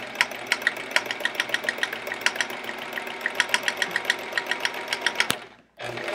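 Home sewing machine free-motion quilting, a rapid rhythmic stitching clatter in quick bursts that speeds and slows as the fabric moves back and forth, then winds down and briefly stops near the end.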